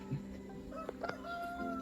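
A chicken at Zoo Negara in Malaysia gives a short series of clucking, crowing calls at moderate distance, with no talk.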